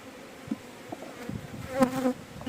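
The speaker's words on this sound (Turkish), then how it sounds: "arımız boşa gitmesin bu arı" Honeybees buzz nearby in a steady droning hum, with individual bees swelling louder as they pass close.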